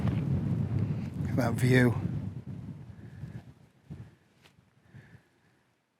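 Breezy wind of about 12 to 13 mph at a wild camping spot by a tent, buffeting the microphone as a low rumble under a man's speech, then easing into fainter gusts toward the end.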